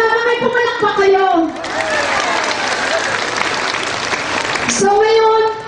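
Audience applause at the official opening of the Ala Eh! Festival in Batangas, a dense burst of clapping lasting several seconds, with a voice speaking through a microphone before and after it.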